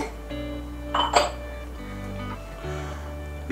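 A small saucepan clinks on a stovetop as milk, water and butter go in, with a couple of sharp metallic knocks over a steady background hum.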